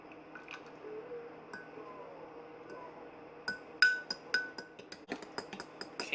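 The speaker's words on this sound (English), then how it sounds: "Bring in the butter and milk together." Melted butter and milk poured together into a bowl for whole wheat pancake batter, with soft liquid pouring, squishy sloshes and several sharp clinks of glass or utensils growing louder toward the end.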